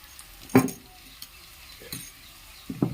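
Five eggs cook with onions in a pan, heard as a low sizzle broken by a few sharp scrapes and clinks of a spoon stirring, close by.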